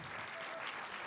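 Audience applause at a film club screening introduction, a dense steady wash of clapping filling the whole moment with no gaps.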